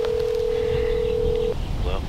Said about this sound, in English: I'm gonna call right now, see if I can get in